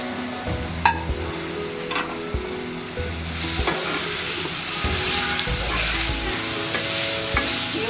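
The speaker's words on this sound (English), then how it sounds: "this carrot is sauteed nicely till it changes color" Carrots sautéing in a pan for carrot pulao, a loud continuous sizzle and frying hiss with repeated scraping stirs from a utensil, getting louder partway through.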